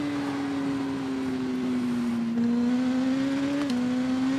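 A motorcycle engine in the TT Isle of Man 2 video game holds a high, steady rev at the race start, a continuous buzzing whine that shifts pitch slightly a couple of times.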